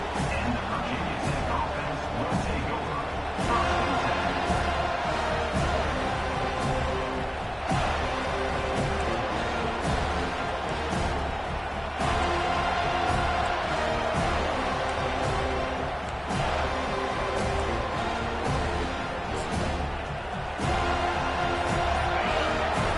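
Dense, steady crowd roar from a large college football stadium audience at a Florida State versus Virginia Tech game, loud and continuous throughout with occasional swells and surges of cheering.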